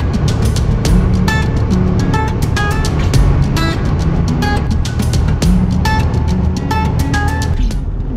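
Steady road and engine rumble from a camper van driving through the little town of Almo, constant and fairly loud, with repeated short tonal chirps over it and no talk.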